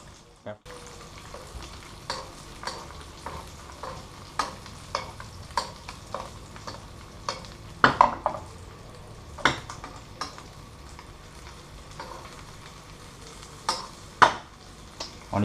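Trout frying in butter in a pan, a steady close sizzle with repeated sharp clicks and scrapes of utensils against the pan throughout.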